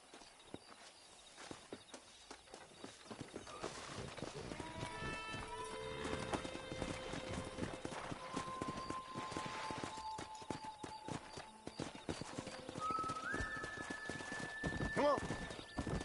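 In Red Dead Redemption, a pack of wild horses' hooves clip-clop steadily with a horse whinnying near the end, set against a busy background of music and ambient game sounds.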